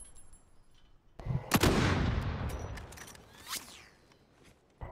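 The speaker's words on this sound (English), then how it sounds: "someone else is shooting somewhere else too?" Gunfire in Call of Duty Warzone, a sudden loud burst of shots that trails off into echoing reports, then a second sharper shot and a faint one near the end.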